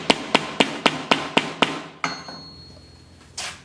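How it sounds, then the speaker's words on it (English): A small hammer strikes a rivet into a neck knife sheath in about seven sharp, evenly spaced taps, followed by a ringing pause and one last hit near the end. "Lined up, and then just take your little hammer."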